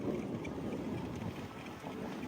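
Strong winter wind in snowy Hanover, Germany buffets the microphone in a steady, loud roar, with rumbling low gusts throughout and no voices.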